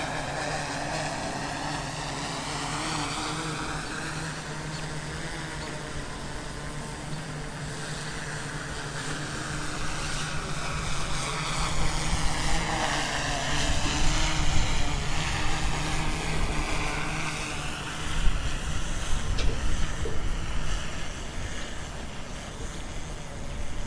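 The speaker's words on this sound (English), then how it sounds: "Right now I'm just moving the quad around" DJI Inspire 2 quadcopter drone flying within line of sight on a test flight, a steady broadband rotor whine and drone hum held at close range, its pitch rising and falling slightly as the craft is moved around, with no speech.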